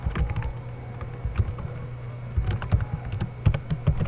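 Fast, steady clatter of keys on a computer keyboard while C code is typed in Turbo C++, close and continuous, with slightly louder key presses toward the end.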